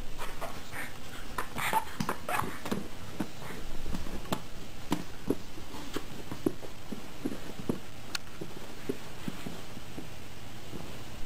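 A pug in a baby-versus-pug comedy clip whimpers and yips repeatedly in short bursts, close and fairly loud, with light taps and footsteps on a hard floor and no talking.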